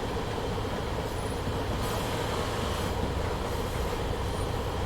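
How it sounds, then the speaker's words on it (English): A freight train rolls past in the Train Simulator 2021 game on the Welsh Marches line, a loud continuous rumble of wagons with faint wheel squeal and clatter, no voices. "So I like the sound of the freight trains."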